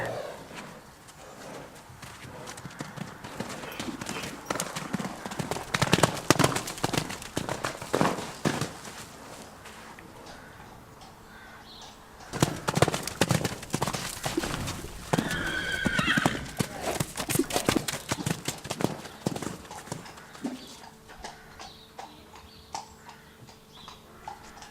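A big coloured horse moves around outdoors with hooves clip-clopping in uneven, busy bursts and a whinny partway through, against a steady background din.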